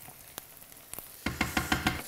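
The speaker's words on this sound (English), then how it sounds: "you can hear that it's gone from a sizzle to kind of a toasting and a frying" Rice grains toast and fry in hot oil for paella, giving a soft crackling sizzle punctuated by a few sharp clicks. It then turns into louder, rhythmic stirring scrapes and frying bursts, close up with no talking.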